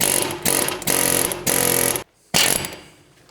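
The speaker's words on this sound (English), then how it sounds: "Air hammer." A pneumatic air hammer hammers on a BMW E39 530i Touring ball joint in loud, rapid bursts of about half a second, with a short pause before a final burst.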